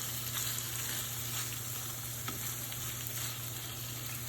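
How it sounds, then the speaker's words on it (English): Prawns sizzle and fry in a hot pan while being stirred, a steady close crackle with a constant background hum and occasional scraping stir sounds. "so I'm going to add in these gorgeous lovely prawns. And stir them around until they're pink."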